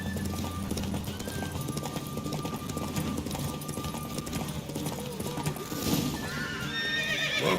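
Roach, the horse in The Witcher 3, gallops with a steady clip-clop of hooves, then whinnies loudly near the end amid game ambience and faint voices.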